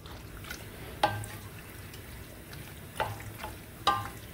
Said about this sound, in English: let the pasta heat a bit and add a little more water, just a little more, yeah, so it remains moist, and give it a nice mix